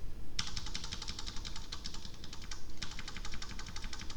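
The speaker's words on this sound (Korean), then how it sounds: "이 메모장에서 똑같은 키 눌러볼게요." Rapid repeated presses on a Korean computer keyboard clatter in quick bursts, a brief pause between two runs of typing, close and crisp.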